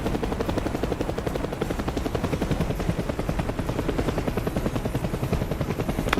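An AH-1 attack helicopter in a video game flies close, its rotor beating in a steady rapid thump that stays loud and constant throughout.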